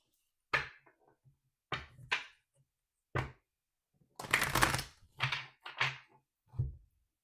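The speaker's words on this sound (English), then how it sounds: "One more shuffle." Tarot cards being shuffled and handled during a reading, a series of brief separate riffles and slaps, close and distinct with quiet gaps between them.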